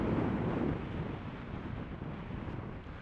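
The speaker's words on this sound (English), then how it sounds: "I can't believe how windy it is here." Strong wind on the Isle of Man buffets the microphone in a continuous loud roar, heaviest at the start and then easing slightly but staying steady, with no talk over it.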